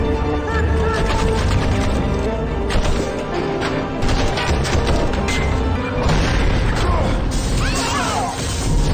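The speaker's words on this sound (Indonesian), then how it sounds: "Setelah ledakan tersebut" Explosion in an action film, a dense roar of crashing and smashing debris that runs loud and sustained throughout, with impacts and rumble layered over one another.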